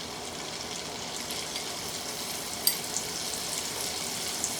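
Salmon fries in a pan with a steady, even sizzle and hiss, a few small pops near the end, and no talking.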